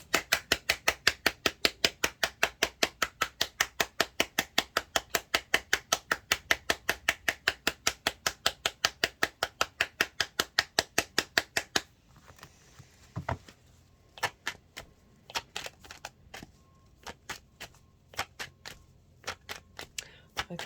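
Tarot cards shuffled by hand, a rapid, even run of crisp riffling flicks that goes on steadily, then breaks into sparser, irregular card snaps and taps, close and clear.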